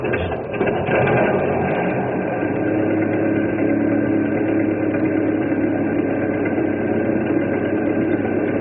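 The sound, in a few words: old houseboat engine cranking up and running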